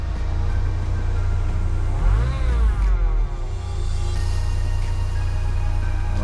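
Engine of a 1995-2003 Ford Ranger pickup revving up once and settling back to a steady idle, loud and close, with no voices.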